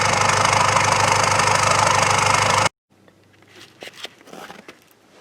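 A 4BT diesel engine with a grid heater runs after a cold winter start, a loud, close, steady knocking idle for under three seconds. It cuts off abruptly, leaving faint rustles and small clicks.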